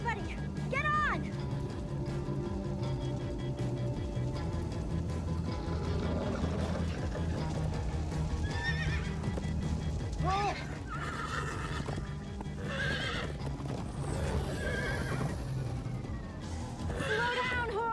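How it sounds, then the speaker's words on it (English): Horses neigh and whinny repeatedly over a continuous, busy game soundtrack with rumbling movement and clip-clop hooves, from a galloping ride in the Minecraft Story Mode video game. "Slow down, horse!"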